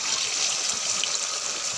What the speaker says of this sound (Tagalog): tumutulo yung tubig. Kasi umuulan.